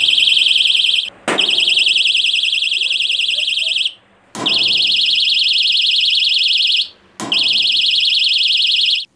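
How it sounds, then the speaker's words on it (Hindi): A knock-activated smart door buzzer sounds loud and close in three long, harsh alarm bursts, each separated by a brief silence, with no one talking. "इसके किसी भी कोने से अगर आप नॉक करते हैं तो ये डिवाइस जो है एक्टिवेट हो जाती है और बजर बजने लगता है"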